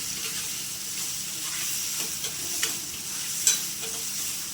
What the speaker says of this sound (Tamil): தக்காளி வதக்குறேன்